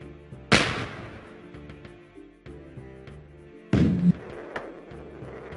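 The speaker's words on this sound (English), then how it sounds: "Try to see if you can get him to fire the cannon." Two loud cannon blasts in the mobile puzzle game Puzlo, each a sharp booming burst that decays slowly, spaced about three seconds apart over a soft game music bed.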